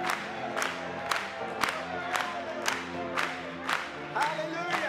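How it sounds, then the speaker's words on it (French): A church congregation claps in a steady rhythm, about two claps a second, while voices sing and call out together in a reverberant hall. "Acclamons pour lui ce matin."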